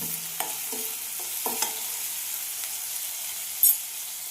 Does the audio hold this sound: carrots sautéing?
yes